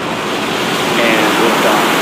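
A SpaceX rocket engine ignites at a launch from California, heard as a continuous broad roaring rush like heavy surf, loud and steady across two seconds with no clear voices.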